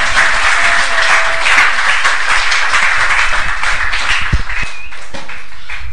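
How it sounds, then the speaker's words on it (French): A congregation at a church service applauds two young people, a dense, loud, sustained burst of clapping that fills the room for several seconds, with faint scattered voices underneath. "Please put your hands together for these 2 young."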